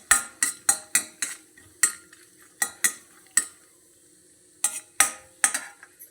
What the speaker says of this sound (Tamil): முந்திரியும் வறுத்தாச்சு.